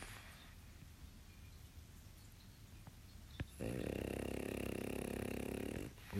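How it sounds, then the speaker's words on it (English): A woman nearby lets out a long, loud, rasping snore that swells out of quiet room noise, holds for a couple of seconds, then breaks off. "Ooh, that was a big snore."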